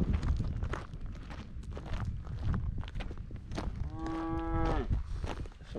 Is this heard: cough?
no